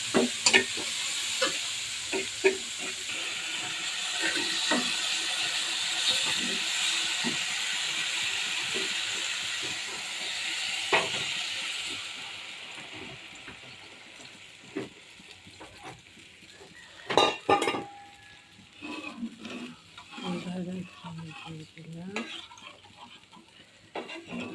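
Malabar spinach fruits stirred and sizzling in a pan while cooking with fish, a steady broadband fry that fades after about twelve seconds into quieter scraping, clinks and sporadic stirring knocks, fairly close.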